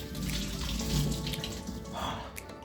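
Ingredients for spaghetti and meatballs get washed under a running kitchen tap, with a steady close splash of water and a low background hum. Handling noises shift the splashing partway through, and no one speaks.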